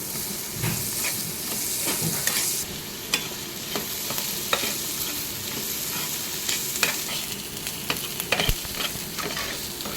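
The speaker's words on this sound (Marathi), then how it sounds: "यामध्ये दोन बारीक चिरलेले कांदे टाका याला थोडेसे परतवून घ्या" Finely chopped onions sauté in a hot pan after ginger-garlic paste, a steady sizzle broken by repeated scraping and stirring strokes, close and fairly loud with no talking.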